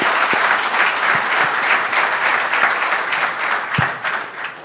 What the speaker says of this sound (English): Big round of applause to all the winners,